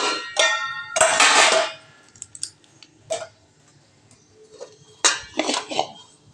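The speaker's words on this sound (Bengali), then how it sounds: "ফাইনালি আমি সবগুলো কড়াই মেজে নিয়েছি, বাসন টাসন সব মাজা কমপ্লিট।" Metal woks (kadai) being scrubbed and handled, with several bursts of clattering and scraping metal separated by quieter gaps, close and fairly loud, with no one speaking.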